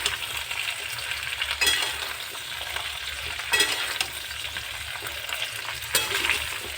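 Frying in a pan for homemade pickle gives a steady, close sizzle and hiss, with occasional louder bursts of crackle as the contents are stirred.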